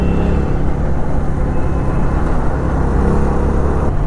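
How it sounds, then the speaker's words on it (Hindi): CNG car accelerating in fifth gear gives a steady, loud low engine drone with road rumble, heard from inside the car and holding an even level throughout. "देख लो कैसे भागती है सीएनजी भी, 5th गियर वो भी पता ही नहीं चल रहा"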